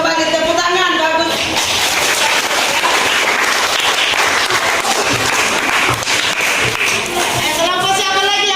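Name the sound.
applause for group 7's presentation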